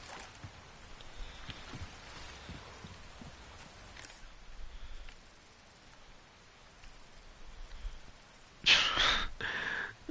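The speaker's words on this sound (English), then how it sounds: "It is raining." Steady rain patters across a village scene in the video game Resident Evil 4 Remake, a soft continuous hiss with scattered drops, ending in a brief louder burst of rain-like noise near the close.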